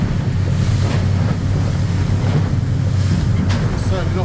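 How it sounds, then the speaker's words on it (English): Choppy sea and breeze outside Torbay heard from a moving fishing boat, a constant loud rush of wind buffeting the microphone over churning water and a low engine drone, with no clear talking. "Outside Torbay now, a little bit of chop and breeze, and a little bit of leftover swell"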